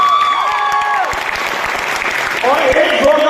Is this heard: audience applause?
yes